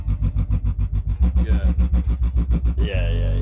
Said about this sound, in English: the then sound you're hearing is a sine wave.